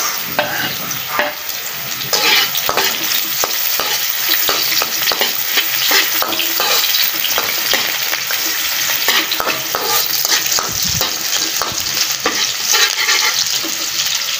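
Onion sizzling and crackling steadily in a pan on a clay wood-fired stove while chicken is cooked, a loud continuous fry with scraping stir sounds throughout.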